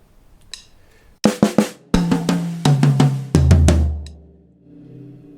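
A short beginner drum fill in the "lemonade" rhythm, played around the kit as quick bursts of close, loud hits with ringing decays, then a lower drum sustains before fading out.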